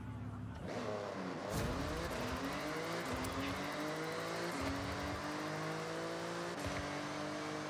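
An 8-liter V10 car engine in the Forza racing game revs and accelerates repeatedly, climbing pitch sweeps with gear shifts and drops, steady and moderately loud with no speech.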